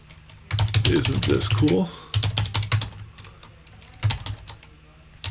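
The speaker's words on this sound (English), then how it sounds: "I can come in here and type" Rapid clattering keystrokes on a computer keyboard while a web developer works on a locally hosted website, with bursts of typing broken by short pauses, mixed with a voice speaking over the first part.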